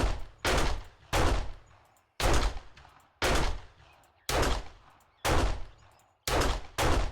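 Heavy single gunshots in a video game, fired at a steady pace of roughly one per second, each a loud sharp blast with a long decaying tail, repeating seven times with no talk.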